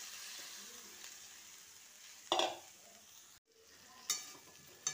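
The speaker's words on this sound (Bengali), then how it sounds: "এবার এতে দিয়ে দিলাম আনাজটা।" Vegetables being stirred with spices in a hot pan for jhal frezi: a soft continuous sizzle with a few sharper scraping stirs, close but fairly quiet, no talking.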